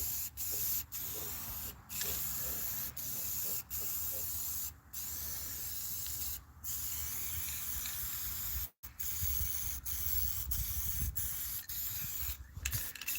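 Rust-Oleum spray paint hisses from the can in repeated bursts, applied as a preservative coat during a Polaris sear repair. Each burst is close and steady, broken by short pauses.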